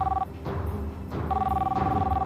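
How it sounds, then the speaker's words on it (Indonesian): An old-style telephone bell rings indoors in two clear bursts separated by a pause, loud and close, with a faint voice murmuring in the background. "Telepon tuh, Pak, angkat."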